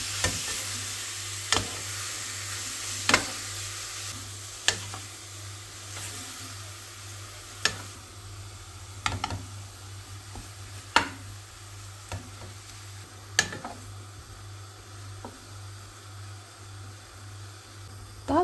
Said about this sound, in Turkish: Kızan tavamızın içine 850 gram kuşbaşı doğradığımız eti atıyoruz.